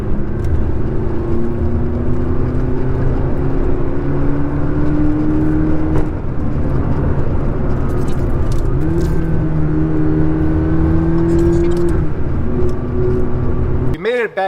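A McLaren MP4-12C supercar sweeps through corners with a loud, steady engine drone whose pitch rises and falls, heard close from inside the car, with occasional voices under the engine.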